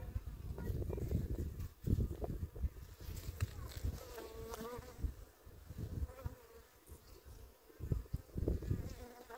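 Honey bees swarm over an open hive during a spring inspection, a dense close buzz running steadily throughout, with faint voices and handling noises mixed in.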